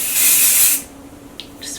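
A can of dry shampoo sprays onto the roots of short hair in one loud hissing burst for under a second, followed by a few faint brief hisses.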